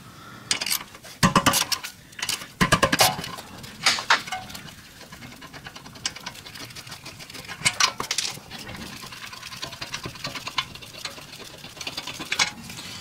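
Metal tools clank and ratchet in scattered bursts while the 17 mm caliper bracket bolts come off the rear brakes of a Mazda CX-9, close and fairly loud, with sharp clinks between quieter stretches.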